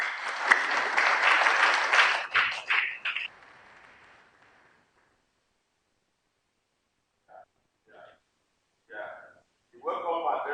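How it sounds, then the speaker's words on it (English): A crowd at a national environmental congress applauds loudly for a few seconds, the clapping fading into silence before a voice begins speaking in short bursts. "Please, I want to get another round of applause."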